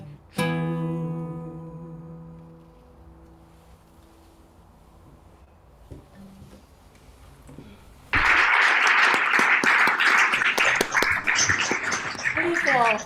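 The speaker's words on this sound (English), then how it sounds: "Ah, the sound of live applause." Live audience applause bursts in loudly after a fading sung note and quiet pause, a dense, sustained wash of clapping from a crowd at a cabaret-style show.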